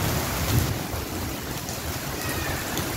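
Torrential record-breaking rain pours down in Multan, a steady broadband wash of heavy downpour with a low rumble beneath, continuous and fairly loud throughout.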